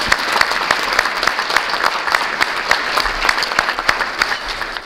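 Sustained applause from a large crowd at a legislative breakfast welcoming House Majority Leader Jason Mumpower, dense continuous clapping at a steady level with no voice over it.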